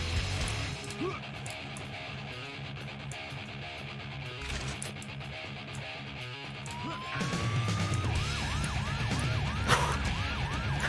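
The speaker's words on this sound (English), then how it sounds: "What's with the siren?" Siren in the video game Painkiller Hell & Damnation, entering in the second half as a rising wail that settles into a repeating whooping cycle over dense game noise and music.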